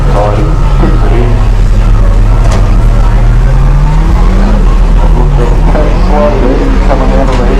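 A hillclimb race car at speed, its engine note rising and falling with a pitch sweep as it passes, loud against a constant low rumble, with people talking over it.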